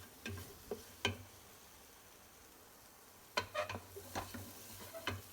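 Moroccan chickpea and lentil harira soup being stirred in a pan, with a few soft clinks and scrapes of the spoon in two short bursts separated by a quiet pause, close and fairly faint.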